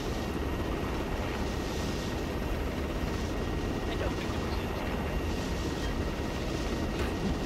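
A helicopter in a military video game flies at night with a chem light attached, its broad steady rotor and engine roar filling the scene, constant and close, with no change in level throughout.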